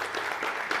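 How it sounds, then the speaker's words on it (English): Audience applause for a speaker at a reef-keeping talk on coral interactions: a brief, steady wash of clapping heard up close and alone. "Guys, huge round of applause, please."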